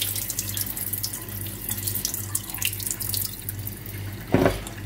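Tap water runs steadily into a bowl of chickpeas being soaked for hummus, a continuous close splashing rush, with a brief louder knock near the end.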